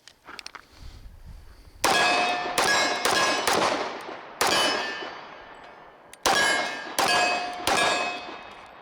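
Shots from a Kimber Rapide 1911 pistol crack out one after another, seven sharp reports with ringing metallic tails, irregularly spaced over several seconds after a quiet start, close and loud without any talk.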